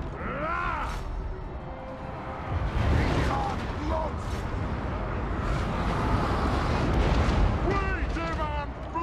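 Artillery fire rumbles through a Total War Warhammer battle, heavy booms and blasts layered under the clash of fighting, with a voice talking over the din.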